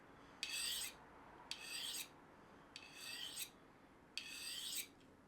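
A knife blade is sharpened on a stone in four even, rasping strokes, each about half a second long and spaced about a second apart, close and clear against a quiet background, with no talking.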